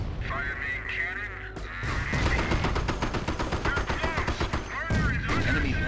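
Sherman tank main cannon fire in the World War II strategy game Company of Heroes, a loud sustained stretch of gunfire and explosions from about two seconds on, with rapid repeated blasts over a dense battle backdrop.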